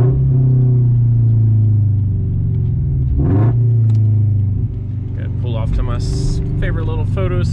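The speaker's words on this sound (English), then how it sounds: "we're gonna hop in the car, take it for a drive, make sure we're all good" A Scion FRS car engine rumbles steadily from inside while being driven, with a brief rev partway through and a person talking over it.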